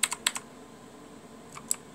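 Keys clack on a Redragon Indrah mechanical RGB keyboard: a quick cluster of four close taps, a pause, then three more, crisp and near with no talking.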